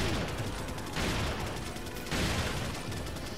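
Gunfire in Resident Evil 4: dense, rapid shots in roughly three swells over a few seconds, loud and continuous rather than single distinct pistol cracks, with no talk.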